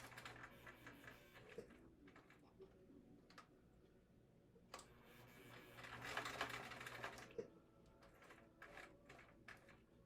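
Sewing machine with a walking foot top-stitching a leather wallet, making quiet, rapid, regular ticking stitches up close that pause and resume, with brief rustles between runs.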